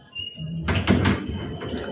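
A door is opened at home with a brief, fairly close scraping rush that rises suddenly and fades, with a dog whining faintly around it.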